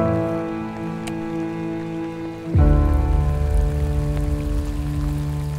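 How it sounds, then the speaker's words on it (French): Heavy rain pours down on rocks and water at a fishing spot. A steady patter suddenly thickens into a loud, dense hiss partway through and then holds at full strength to the end. "Bon là il pleut vraiment beaucoup"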